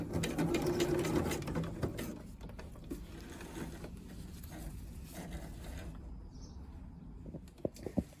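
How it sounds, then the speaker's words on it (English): Sewing machine stitching a locking stitch with the needle down; a rapid mechanical whir at the start, then slower clicks and short bursts of stitching, close by, with no speech. "So then do a locking stitch."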